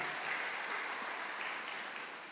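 A church congregation applauds and cheers in a steady, even wash of clapping that holds throughout, somewhat distant and with no talk over it.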